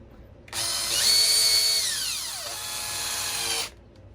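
A large power drill whirs close up for about three seconds, driving small scale hardware on an RC construction model, its pitch rising as it spins up, then sliding lower and steadying before it stops.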